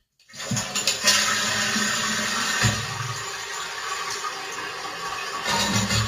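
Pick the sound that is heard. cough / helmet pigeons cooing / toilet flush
toilet flush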